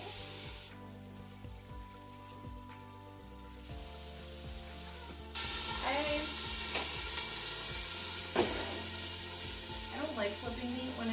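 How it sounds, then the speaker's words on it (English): Beef sizzling in a frying pan for stroganoff, quieter at first, then a loud burst of crackling hiss and spattering fat that carries on steadily, with occasional pops and faint talking. "I don't like flipping meat when it's splattering."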